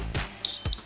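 A homemade Morse code buzzer circuit sounds the letter C: a soft tap, then one long, steady, high electronic tone and a brief second beep, close and clear.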